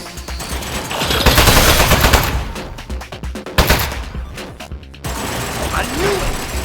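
A Portal 2 turret sprays rapid automatic fire in loud, dense bursts that swell and break off, followed by quieter mechanical game sounds.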